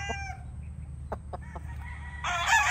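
A pure Gilmore gamefowl rooster with a straight comb crows nearby, with a short call at the start, a few sharp clucks in the middle and a louder crow at the end over low background hum.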